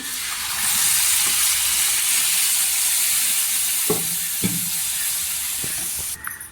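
Dal tipped into a hot tempering in a pan on a low gas flame gives a steady, loud frying sizzle that fills the whole stretch, with a few soft stirring knocks and no talk.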